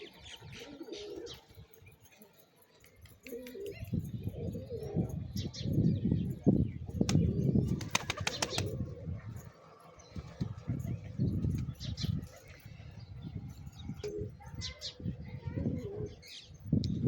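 Pigeons coo softly while being fed peanuts in Upleta, Gujarat, with low cooing and a few brief wing flaps and chirps. The sounds come and go over a quiet outdoor background.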